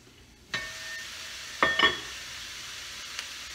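Food hits hot extra virgin olive oil in a pan for a cabbage dish, bringing on a soft, steady sizzle with a couple of brief louder crackles, faint and close.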